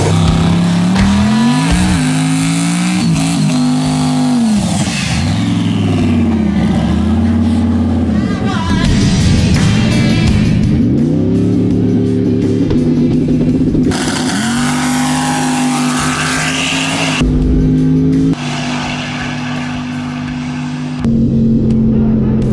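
A white truck launches on a drag strip and screams down the track, engine revving hard with rising and shifting pitch, loud and continuous, with a crowd and voices at the event audible underneath.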